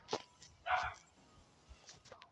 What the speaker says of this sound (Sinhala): බෝ බලොත් බුරනවා.